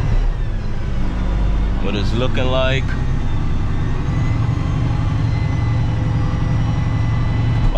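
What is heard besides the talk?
dump truck engine revving as the dump box raises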